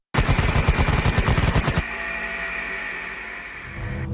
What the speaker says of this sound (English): The trigger got pulled.